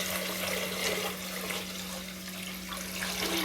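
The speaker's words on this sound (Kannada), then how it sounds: "ತೊಳೆದಾದ ಮೇಲೆ ನೀರು ಹಾಕಿ." Water running steadily into a pressure cooker over washed red boiled rice, a continuous close splashing pour with a faint steady hum beneath, no voices.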